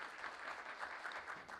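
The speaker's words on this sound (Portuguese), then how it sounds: "Gostaria de pedir a todos que acolhamos a professora com uma salva de palmas" Steady applause from an audience welcoming a professor at a lecture on integral ecology and environmental diplomacy in Braga, a dense, even patter of many hands filling the space throughout.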